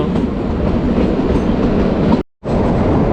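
The Shimla to Kalka narrow-gauge toy train rumbles along steadily from on board, a loud continuous clatter of wheels and carriages that cuts out abruptly for a moment near the end before resuming.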